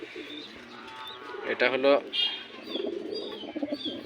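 German Shield pigeons, a yellow male and a red female, coo softly while someone talks over them; his voice swells midway and the birds murmur on beneath it.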